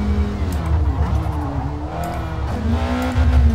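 Car racing in Forza Motorsport 2023, played on a PXN V10 wheel: a loud, close engine drones and rises and falls through gear changes, with brief tire squeal and a strong revving surge toward the end.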